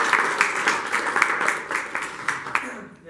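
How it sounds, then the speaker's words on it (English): Audience applause at a technology conference talk, a Global Azure 2018 event in Ontario, as a speaker is welcomed. Steady dense clapping from a crowd with some quicker, louder claps, fading out near the end. "please give him a round of applause"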